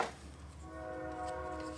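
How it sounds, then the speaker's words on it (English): A train passes just several feet from a house, giving off a low rumble with faint sustained horn-like tones. It is distant and quiet, with no voices. "Disregard the train that's passing by. It's about several feet from my house."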